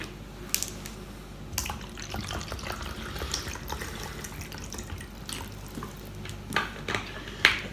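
A kitchen tap runs water into a sink while fish fillets are being prepared, a steady splashing flow with a few brief clinks and drips, moderately close and alone without talk.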